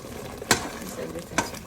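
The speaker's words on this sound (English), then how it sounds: "Mix everything together." A spoon stirs jollof rice ingredients with palm oil and chicken seasoning in a cooking pot, making two short, separate scraping strokes about a second apart over a low background.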